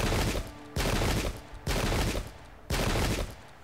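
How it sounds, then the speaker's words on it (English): Musket volleys ring out across a Pike and Shot battlefield of the English Civil War, four loud, evenly spaced crashing salvos, each decaying into a rumbling tail before the next. "Now they're firing at us."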